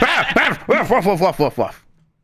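A person's voice imitates a dog, giving a string of short, yappy barks and whiny yelps in quick bursts for nearly two seconds, close and loud, with a brief whimpering tail before it falls silent.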